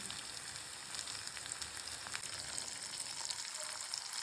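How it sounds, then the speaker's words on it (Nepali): Pork sizzling and crackling in a pan, a steady close frying hiss with small pops throughout and no voices. "Pork is frying."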